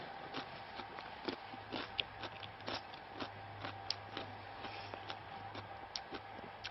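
Fresh cucumber being bitten and chewed while tasting vegetables high on the 'Roof of the World', giving close, loud, juicy crunches in a steady chewing rhythm with no talking.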